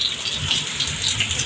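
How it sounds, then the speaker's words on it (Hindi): Heavy rain pours down outside, a steady, dense hiss of drops with a continuous wet patter, close and fairly loud, with no voices over it. "बाहर तो माशाल्लाह से सही ज़ोरों की बारिश लगी हुई है"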